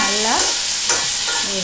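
Prawns stir-fry for pineapple prawn fried rice, crackling and sizzling in a hot pan while a utensil scrapes and tosses them in quick strokes, close and continuous, with no talking.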